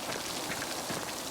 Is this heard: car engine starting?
no